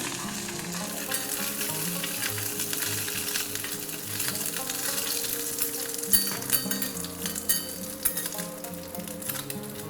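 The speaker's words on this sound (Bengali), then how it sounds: "মাছগুলো ভাজা হয়ে গেছে এই সময় তুলে নেব বেশি কড়া করে ভাজার দরকার নেই" Small chanda fish fry in hot oil in a pan, a steady dense sizzle and crackle running throughout with occasional louder pops and stirring clinks, close and fairly loud.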